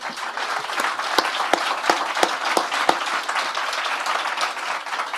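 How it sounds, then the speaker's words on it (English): A sales rally audience applauds processors, funders, closers and underwriters with a dense, steady wash of many clapping hands, a few sharper claps standing out near the front, and no voices over it. "I think they deserve a round of applause and say thank you"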